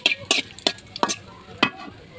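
Whole garam masala and bay leaves are stirred in hot soybean oil, giving a string of five or six sharp, close spatula scrapes and clinks over a faint sizzle, with no voice.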